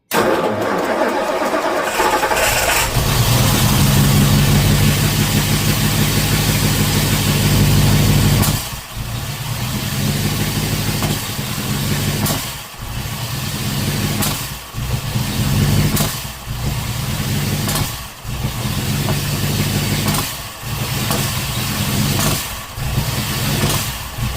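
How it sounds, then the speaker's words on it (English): A Ford engine with Sniper 2 fuel injection runs loud and rough, then stumbles through a string of sharp, irregularly spaced backfires that punctuate the steady engine roar, with no talk. "I'm not sure why it keeps backfiring like that."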